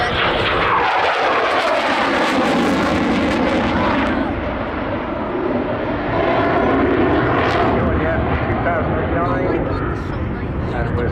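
A Eurofighter Typhoon jet performs a flying display at the Southport Airshow, its engine roaring loudly and steadily overhead, swelling and fading slightly as it manoeuvres nearby.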